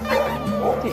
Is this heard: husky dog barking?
yes